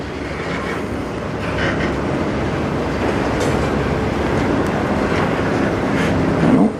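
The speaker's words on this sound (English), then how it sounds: "That train always snails through here. Snails right into the tunnel." A heavy CN freight train rolls past slowly and steadily at night in Sarnia, Ontario, heading into a tunnel, a constant low rumble with faint clattering of wheels on rails.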